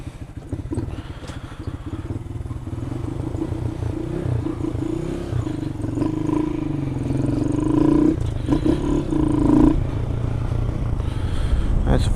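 A Honda Grom motorcycle with a Chimera intake, K&N filter and Dynajet fuel management unit, its small engine idling and then revving up steadily nearby, with someone talking over it.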